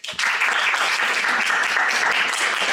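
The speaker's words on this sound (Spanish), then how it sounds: "Un aplauso para Raúl." Audience applause at a panel session on social cohesion and community safety, a dense, loud burst of clapping starting abruptly and holding steady throughout.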